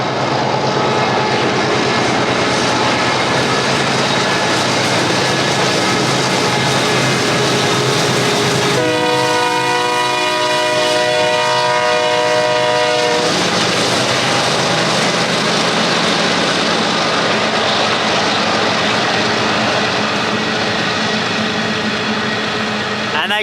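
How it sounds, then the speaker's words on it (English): Two long trains in the Pilbara rumbling past steadily and loudly, with a sustained multi-tone horn blast in the middle and continuous wheel and wagon noise throughout. "There's two trains. One's full and one's empty, but they just go forever."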